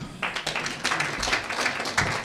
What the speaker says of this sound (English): Let us have a very, very warm round of applause for Polycarp Igathe.